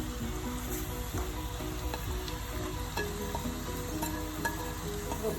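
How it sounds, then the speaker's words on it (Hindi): Onions and garlic frying in half a cup of oil for a Pakistani bhuna chicken curry, a steady dense sizzle with scattered stirring scrapes, close and loud throughout with no talk. "भूनना शुरू करना है तो जब तक ये गोल्डन ब्राउन हो जाएंगे ये थोम और प्याज उससे तक भूनते रहना है"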